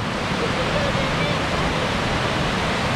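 A stream flows into a lake along a nature trail, giving a steady broadband rush of running water close by with no pauses.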